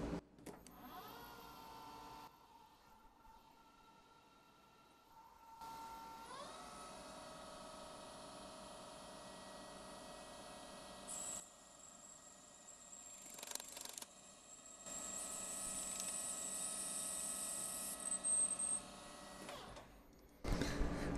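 A small lathe drills a hole in a BNC-style connector part out from 2.6 to 3 millimetres, with a quiet steady spindle hum and thin tonal whine that starts, pauses and rises again in louder passes, close by.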